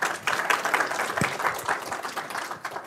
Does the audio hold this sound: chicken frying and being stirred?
no